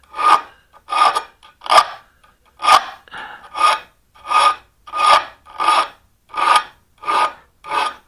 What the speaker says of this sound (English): So I'll just use the flat jeweler's file and I'll just round that off a little bit.